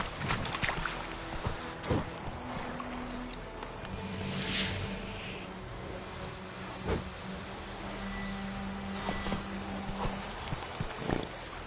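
Roach, a horse in The Witcher 3, clip-clops along with steady hoofbeats over a continuous game ambience with faint music, the footfalls moderately near and evenly paced.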